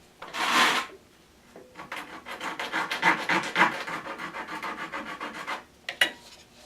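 Wood being sanded on a handmade guitar part: one short, loud scrape, a pause, then a long run of quick, steady back-and-forth rasping strokes close up, ending with a couple of brief final strokes.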